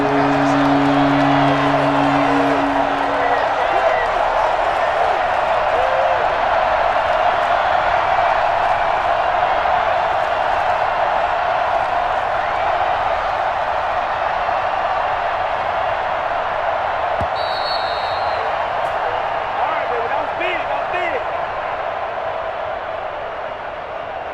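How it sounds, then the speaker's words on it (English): A packed football stadium crowd roars steadily during a Jets vs Patriots game, a dense sustained wall of cheering and shouting that swells and holds loud throughout, with a brief whistle-like tone partway in. "That just means this crowd's going to get even louder"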